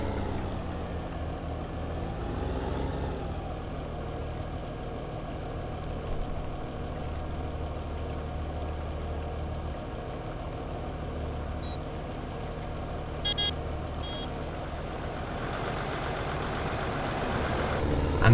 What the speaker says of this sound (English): Let's just wait for this tractor to come this way.